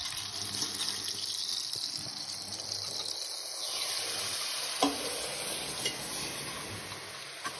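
Around 60 grams of butter melting in a pan over low heat for blanquette de veau, giving a steady, close hiss of sizzling with a few soft clicks, no voices.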